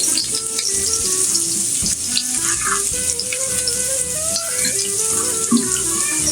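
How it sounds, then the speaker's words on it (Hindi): Finely chopped garlic sizzles and crackles steadily in hot oil in a pan, a loud continuous frying hiss with light stirring clatter, no voices over it. "अब ये ऑयल गर्म ही है, इसके अंदर ऐड कर देंगे ये लहसुन"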